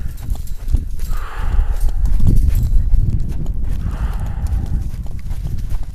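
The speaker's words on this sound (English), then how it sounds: "there's a horse with the cricket going" Hooves clop irregularly on the ground nearby, mixed with shuffling and a steady background hum; no one speaks.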